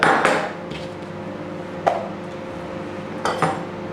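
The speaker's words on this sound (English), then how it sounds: "And then cut off the root and cut off the crown at the top." A knife slices off the root and crown of a vegetable on a board, giving a few sharp separate clicks and knocks spread over several seconds, close and clear with a faint background hum and no talking.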